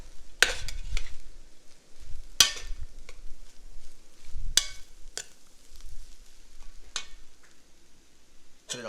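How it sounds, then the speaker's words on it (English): Shrimp fried rice stirred in a hot pan, with a steady low sizzle broken by a few sharp utensil scrapes and clanks spaced a couple of seconds apart, close and fairly loud, with no talking. "Mix all that together"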